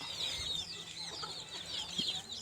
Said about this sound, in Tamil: நம்மளுடைய வான் கோழிகள்லாம் பாருங்கள்.